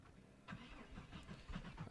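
A car engine cranks and starts in the zombie survival game Project Zomboid, a faint, low rumbling turnover with a few soft bursts, heard alone.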